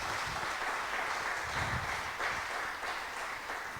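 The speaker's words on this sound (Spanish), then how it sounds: "¿Usted quiere darle un aplauso al Señor Jesucristo?" A church congregation applauds together, a steady wash of clapping that holds evenly for several seconds at moderate volume.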